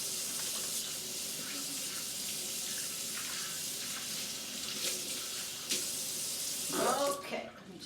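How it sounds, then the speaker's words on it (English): Water runs from a tap in a steady close rush while hands are washed, the flow shifting slightly as the hands move under it before it is shut off near the end; a faint voice is heard at moments. "Okay, so I'm gonna go and wash my hands."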